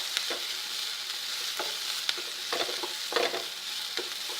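Brinjal masala for kathirikai kulambu is sautéed in a single pan, giving a steady soft sizzle broken by scattered clicks and scrapes of stirring, close and fairly quiet, with no talking.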